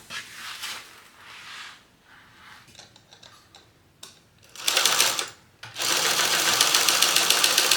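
A sewing machine bastes a quarter-inch seam on a fringed Heidi clutch bag, running in two close, loud, rapid-stitching bursts after quieter handling sounds of fabric being arranged.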